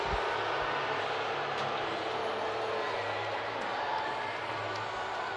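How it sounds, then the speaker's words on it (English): Ice hockey arena crowd at a Jacksonville Icemen vs Fort Wayne Komets game, a steady, loud, roaring wash of cheering and noise that holds for the whole stretch with no breaks. "Listen to this crowd."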